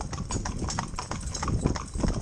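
Hooves of a four-in-hand pony team clip-clop steadily in a busy overlapping rhythm, close and fairly loud, as the driving ponies trot along.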